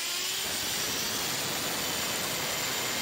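An HPI Trophy Truggy RC car fitted with an upgraded 4.6cc nitro engine runs at high revs, giving a loud, steady, buzzing whine that holds continuously with no talk over it.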